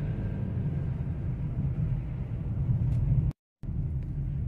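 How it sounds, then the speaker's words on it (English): A VW Golf engine with a vacuum leak and rough running idles as a steady, low, close rumble, briefly cut to silence once near the end, with no talk. "there seems to be a little bit of rattling and tapping coming from the engine"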